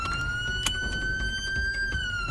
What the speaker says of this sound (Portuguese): desliga a sirene do caralho!